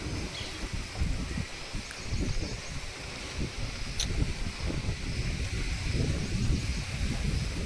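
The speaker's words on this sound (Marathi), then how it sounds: "मस्त वारं सुटलं." Wind gusting through trees in a village setting, a steady broadband rushing and rustling of leaves that swells slightly over time, with faint distant bird sounds and no talking.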